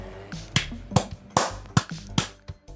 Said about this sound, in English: That wasn't me fapping. That was me clapping.